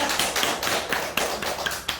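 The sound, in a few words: audience applause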